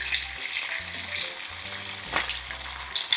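Fish fries in fragrant hot oil with a close, steady crackling sizzle, punctuated by a few sharper spits and pops.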